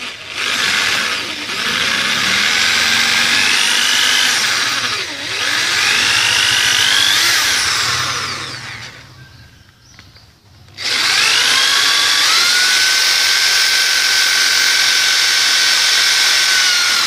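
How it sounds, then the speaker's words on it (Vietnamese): Power drill boring a hole to hold a water bottle while potting a single-stem orchid: a loud, steady high whine running almost continuously, dipping briefly twice and cutting out for about two seconds before resuming at full strength. "Rồi, chúng ta khoan một cái lỗ ở đây để chúng ta cắm chai nước."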